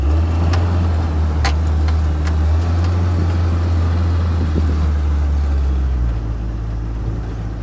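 A 1931 Ford Model A coupe hot rod drives through snow at 14 degrees, its engine a loud, steady low rumble heard from inside the car that drops slightly in pitch toward the end.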